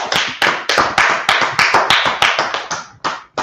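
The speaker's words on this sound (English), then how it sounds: "Clap it up for the class." Small class audience clapping in a room, a series of sharp, close individual claps in an uneven rhythm, each with a short decay, loud and without talk.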